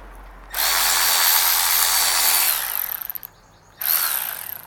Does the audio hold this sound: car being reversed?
no